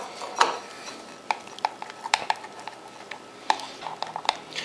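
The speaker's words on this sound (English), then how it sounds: "Give that a stir." A spoon stirs in a bowl, scraping softly with irregular clinks and taps against the sides.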